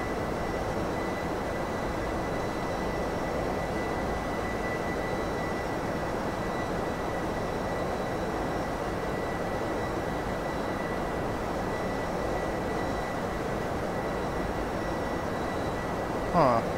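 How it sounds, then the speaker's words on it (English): Steady broadband roar of an airliner's engines and airflow during an ILS approach to land on runway 27 right in the X-Plane 11 flight simulator, continuous and even throughout with a faint tonal hum. "And we're going to be landing runway 27 right."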